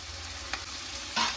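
Vegetables fry in a pan for palak rice as spinach paste goes in, with a soft, steady sizzle and two brief scraping stirs, the second one louder.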